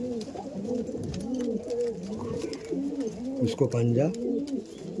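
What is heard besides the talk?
pigeon cooing, chocolate dum female pigeon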